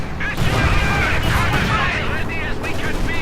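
Explosions of S-mines in the video game Company of Heroes 2, a rapid volley of sharp blasts and crackling bursts over a dense, continuous battle din that stays loud throughout.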